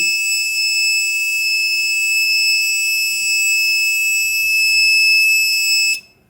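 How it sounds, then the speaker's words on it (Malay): A steady, piercing high-pitched electronic buzzer from a 24V 1500W low-frequency inverter's short-circuit alarm sounds continuously for about six seconds, then cuts off abruptly. "Buzzer bunyi."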